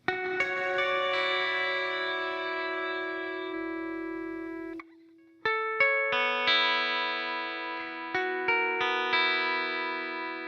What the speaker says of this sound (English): This is the Alpha Omega Ultra, completely clean and with the Mesa Boogie rectifier cabinet.